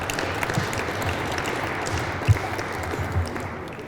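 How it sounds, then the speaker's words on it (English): A crowd at a city hall celebration for a high school's state-champion football team applauds in a steady, full wash of clapping, with a few louder claps standing out. "Give yourself a round of applause."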